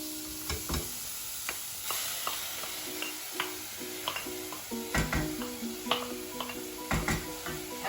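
A spoon stirs garlic paste frying in oil in a pan, a steady sizzle under repeated scraping and clinking strokes at an uneven pace, close and fairly clear with no talking.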